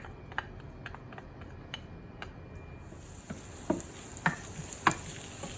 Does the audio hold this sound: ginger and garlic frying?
yes